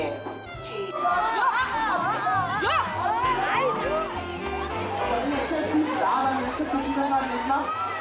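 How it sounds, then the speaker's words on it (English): Lively indoor crowd chatter at a drag show, many overlapping voices and occasional laughter filling the room steadily at close range. "This crowd is a good crowd"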